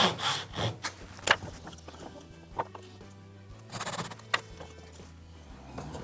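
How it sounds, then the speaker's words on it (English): A Japanese dovetail saw cuts wood on the pull stroke, giving close rasping strokes in an uneven rhythm with brief pauses, alone with a faint low hum beneath. "I'm using a Japanese saw. This is actually a dovetail saw. I like the Japanese saws because they cut on the pull stroke."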